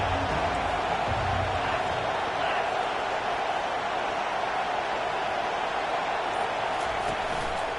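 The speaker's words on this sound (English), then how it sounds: "This crowd bringing the energy and noise early." A dense, steady roar from a football stadium crowd fills the air without pause, a loud sustained wash of cheering and noise.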